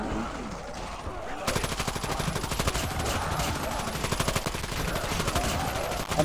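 Automatic gunfire blasts at zombies in Call of Duty Mobile's zombie endless mode, a loud, rapid stream of shots that starts after a short lead-in and continues steadily throughout.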